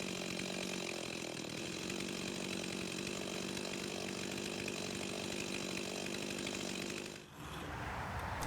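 A chainsaw runs continuously at a steady high buzz, then briefly dips in pitch near the end as it bogs down or eases off before picking back up; fairly quiet overall with no talking.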